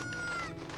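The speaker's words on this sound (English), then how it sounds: "Let's go ahead and take advantage of this chicken here" A short, close cluck from a chicken in the Zelda 64: Dawn and Dusk video game, a brief tonal squawk under a faint background hum.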